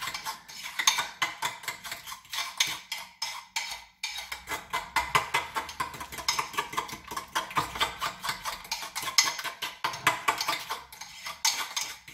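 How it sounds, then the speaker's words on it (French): A fork rapidly mixes ingredients for a Gâteau du Vully, producing a steady, close stream of metallic clinks and scrapes that lasts throughout with no talking. "Et maintenant, je vais mélanger tout ça à la fourchette."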